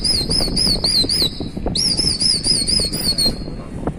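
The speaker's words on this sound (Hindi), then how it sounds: "और ये चला छत से बन के चला कबूतर दोबारा से" Hyderabadi racing pigeon wings flap steadily in flight, with high whistling tones rising and falling over the beats, close and fairly loud.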